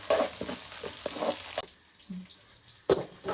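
Garlic, small shallots and curry leaves hitting hot oil for a Tamil kara kuzhambu, giving short bursts of sizzling and stirring that drop away to near quiet, then a fresh sizzle near the end.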